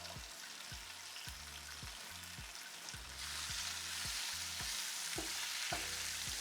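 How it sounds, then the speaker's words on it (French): Spinach sautéing in a pan for a mbinzo and avocado sauce dish: a steady, faint sizzle and crackle with soft rhythmic stirring scrapes, the frying growing a little louder partway through. "Donc, on va juste les griller légèrement."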